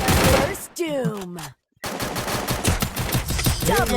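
Rapid bursts of gunfire rattle in a Counter-Strike match, loud and dense, broken by a brief silent gap and sweeping electronic tones.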